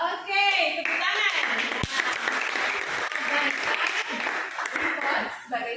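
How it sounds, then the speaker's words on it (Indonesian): Classroom applause from students after a call to clap, steady dense clapping filling the whole stretch, with voices mixed in underneath. "Oke, tepuk tangan."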